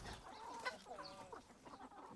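Chickens on a farm cluck and murmur softly. The short, irregular calls are faint and somewhat distant.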